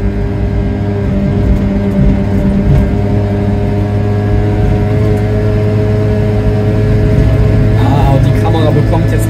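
A Piaggio Ape 50 three-wheeler's small engine pulls steadily in second gear after a tight bend, a loud, continuous nasal drone close by with little change in pitch, and a voice talking now and then over it.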